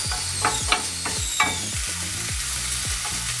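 Food frying in a hot pan with oil spattering, a continuous sizzle broken by repeated scraping stir strokes at a steady rhythm, close and fairly loud with no talking.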